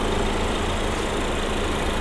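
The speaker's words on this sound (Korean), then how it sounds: "엔진 소리 일정합니다" A Ford Explorer 2.3 Limited 4WD, fifth generation, runs steadily with the hood open, giving a continuous, even engine hum that stays close and constant throughout, with no talking.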